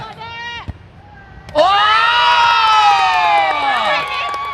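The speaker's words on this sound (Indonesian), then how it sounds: "kasih dong tepuk tangan" An audience at a TVRI Bali fun football event celebrating the 2026 FIFA World Cup bursts into loud, sustained cheering and shouting, with many children's voices, after a brief spoken announcement at the start.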